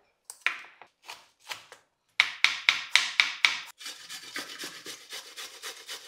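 Cabbage is rubbed against a grater in a home kitchen, giving a series of sharp rasping strokes: a few spaced ones, then a quick regular run, then softer rapid scraping, close and clear with no voices.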